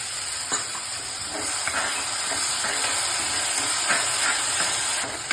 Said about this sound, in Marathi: आता आपण हे टोमॅटो प्युरी टाकते, मिक्सरला बारीक केले मी टोमॅटो